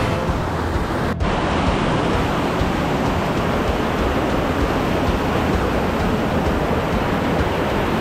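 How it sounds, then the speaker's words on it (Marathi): Heavy rushing water at Kalu waterfall in Maharashtra's valley roars as a dense, constant broadband wash, loud and close, with no voices over it. "इथं थोडीशी म्हणजे पाण्याचा फ्लो पण जास्त आहे प्रॉपर, तुम्ही बघू शकता"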